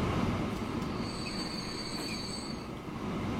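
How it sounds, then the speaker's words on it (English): Freight trains rolling into a station in a railroad video game, a continuous rumbling roll with high metallic wheel squeals sustained through the middle, no talk. "So we got all these trains coming in, and train here, another one, another Chicago Freight."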